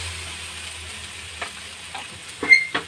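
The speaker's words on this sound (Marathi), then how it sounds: "आणि त्याला असं खरपूस भाजून घेऊया छानपैकी।" Moong dal chila roasting on a pan gives a faint, steady crackle, with a few soft scraping clicks of a spatula near the end and no talking.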